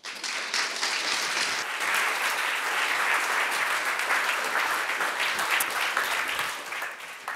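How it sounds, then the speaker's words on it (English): Audience applause greeting a talk speaker, a dense, even round of clapping from a large hall that holds steady for several seconds before tapering off. "let's have a big hand of applause for Nima"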